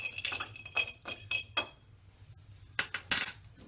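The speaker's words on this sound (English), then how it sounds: "Go ahead and stir that up before we put the Coke in there to get that integrated well." A spoon stirs a zero-proof whiskey-alternative drink in a glass, giving a quick series of bright metallic clinks, then a pause before a few more taps against the rim, close and clear with no talking.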